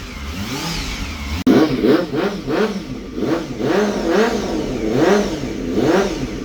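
A car engine revs repeatedly in rising and falling surges, loud and close, after a sharp start.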